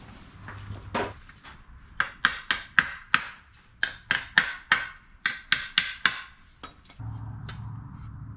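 A hammer strikes wood in a steady run of sharp, evenly spaced blows, about a dozen in quick succession, close and fairly loud with no talking.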